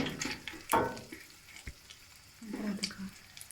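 Grated coconut (khopra) roasting in a pan for Punjabi panjiri, a soft sizzle with scraping stirs and one sharp clack of the spoon, close and fairly quiet.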